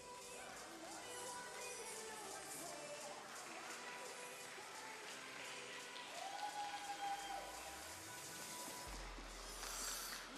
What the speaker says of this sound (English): Yes, prolonged applause.